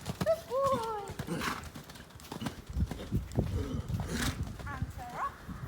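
Hoofbeats of a horse cantering under a side-saddle rider over poles in an arena, soft rhythmic thuds with occasional birdsong and a rider's voice speaking in short bursts over the riding.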